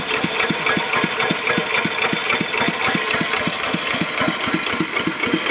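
A Mitsubishi diesel engine idles smoothly up close, with a steady, even knocking pulse repeating rapidly over a constant mechanical rumble; no one talks.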